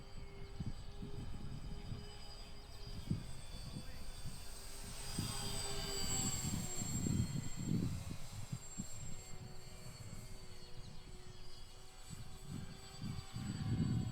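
A Dynam C-47 Skytrain radio-controlled model plane flies overhead over a field, its twin electric propellers giving a steady droning whine that swells and fades as it passes, with wind gusts buffeting the microphone.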